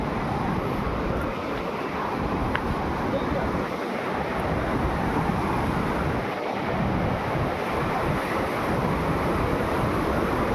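Waterfall at Devarapalli, heard as a continuous broad roar of rushing water with wind buffeting, steady and fairly loud throughout without a break.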